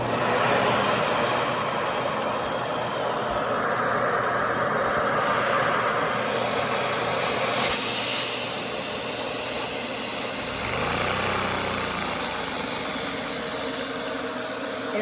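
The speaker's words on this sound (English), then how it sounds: "let's run the engine for the first time" A LEGO V-twin vacuum engine runs for the first time, giving a steady, loud mechanical whir with a rattling texture that holds unbroken for the whole stretch, with no voices over it.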